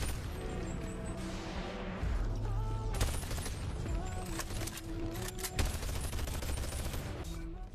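Gunfire in the VR game Bonelab, heard as rapid bursts of shots and crashing impacts, dense and loud, layered over game music with tonal sweeps.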